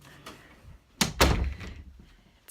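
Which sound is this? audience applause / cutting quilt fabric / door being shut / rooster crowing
door being shut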